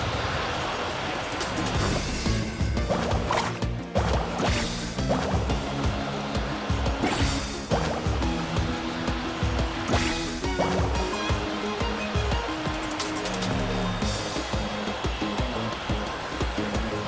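Rushing water and surf from waves while surfing in Genshin Impact, a loud continuous whooshing spray with shifting sloshes, layered under dense game sound effects and music.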